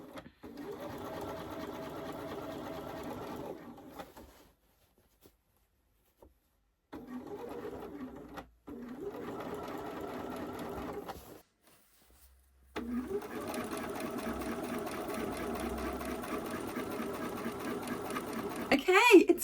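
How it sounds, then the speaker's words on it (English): A sewing machine stitching a quilted wall hanging runs in three bursts of steady, close mechanical whirring separated by quiet pauses, with the last run the longest and loudest. "and then I'm going to sew."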